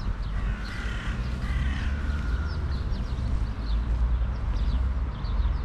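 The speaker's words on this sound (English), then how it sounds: "We see some crows getting some food." Crows cawing on the ground while feeding, several harsh caws scattered through steady outdoor background noise, moderately distant.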